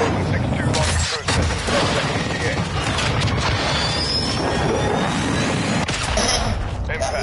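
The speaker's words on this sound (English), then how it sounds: "Cruise missile ready for launch." Cruise missile launch and strike in a PS4 military shooter, heavy booms and rumbling explosions with scattered gunfire, loud and continuous, with a player talking over the noise.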